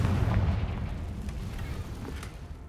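Confringo spell blasts from Hogwarts Legacy: a muffled low burst at the start, then rumbling fiery crackle fading over a couple of seconds with faint pops.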